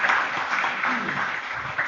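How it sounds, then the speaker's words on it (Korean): A church congregation claps briefly during a Sunday worship service, a short, dense wash of applause at a moderate level that fills the hall. "다시 한번 박수했으면 좋겠어요"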